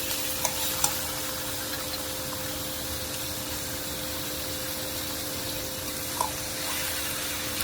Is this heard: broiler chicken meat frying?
yes